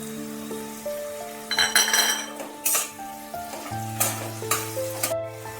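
Chopped tomato is tipped into potatoes frying in a pan, setting off loud bursts of sizzling along with spoon scrapes and clinks of metal against the pan.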